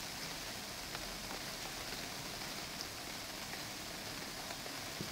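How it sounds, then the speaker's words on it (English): Rain falls steadily in the UnReal World game as a soft, continuous hiss with scattered faint drop ticks. It is quiet and even throughout, with no voices. "is it greasy to shoot an arrow in the rain?"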